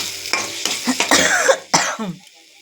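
Egg is stirred into a frying tadka masala, giving short bursts of sizzling with spoon scrapes in quick uneven strokes, close and fairly loud, then trailing off into quiet.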